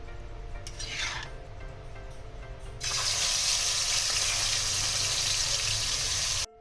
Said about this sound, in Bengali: প্রথমে আমি চিংড়ি মাছটা ভেজে তুলে নেব